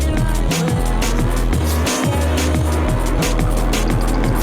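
A car drifts in the video game Absolute Drift, its engine droning loud and steady with repeated rising and falling revs while tires squeal throughout.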